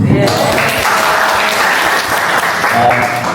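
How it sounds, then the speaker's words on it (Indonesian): Audience at a meeting breaking into loud, close applause, a dense steady clatter of many hands lasting a few seconds with a voice faintly under it. "Kalau nggak tepuk tangan buat semuanya dulu"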